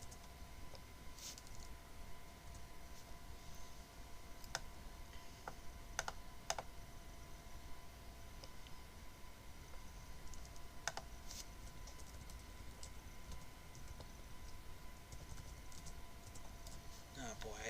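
Steady typing on a computer keyboard, rapid soft key clicks running continuously at low level, with a few sharper clacks, during a Five Nights at Domino's gaming session; a person talks over it at times.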